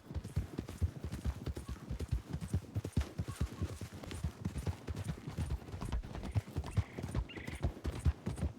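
Horse hooves clip-clop steadily in a Red Dead roleplay game, a close, continuous rhythmic trot of sharp, dense hoof strikes with a brief whinny-like sound near the end.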